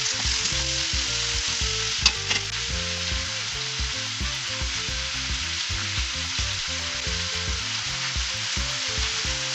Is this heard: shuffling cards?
no